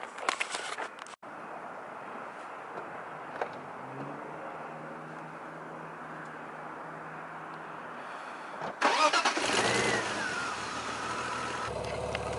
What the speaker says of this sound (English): So let's start up the car, get back to what we were doing.